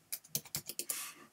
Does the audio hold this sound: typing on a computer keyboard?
yes